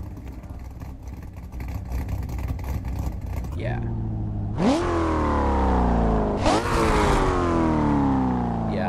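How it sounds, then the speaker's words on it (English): A car engine idles at close range, then revs hard twice in rising sweeps that fall back to a steady rumble; a voice speaks briefly over it. "I love the sound of this car"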